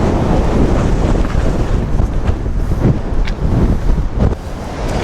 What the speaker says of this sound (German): Ist so dermaßen windig hier.